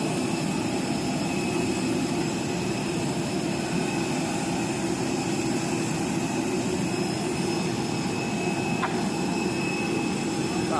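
An airplane's jet engines roar steadily during boarding, a loud continuous broadband drone with a thin high whine, unbroken for the whole stretch.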